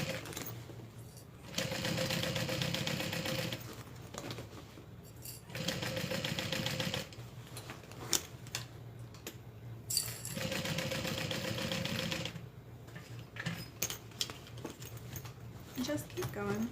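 A sewing machine stitching in bursts of a few seconds each, a close, loud whirring drone that starts and stops several times with quiet pauses between runs.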